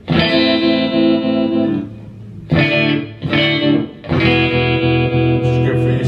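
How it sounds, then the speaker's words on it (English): An electric guitar strums chords through the tremolo effect on a Boss ME-70 multi-effects pedal, held chords separated by short gaps and ringing loudly, with no talking over them. "You got the tremolo"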